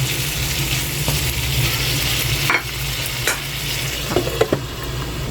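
Chicken fries in a pan with soy sauce, black pepper, chicken powder and sugar, a steady close sizzle broken by scraping stirs and a few sharp utensil knocks against the pan.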